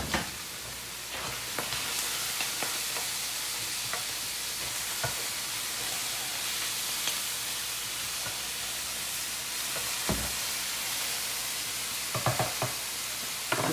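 Bacon and six eggs fry in a pan, a steady bright sizzle and hiss throughout with scattered crackles and pops, louder spatter bursts near the end, and no talking.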